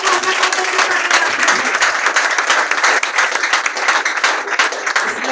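A church congregation claps and applauds continuously, a dense, loud, rhythmic wash of many hands filling the room throughout.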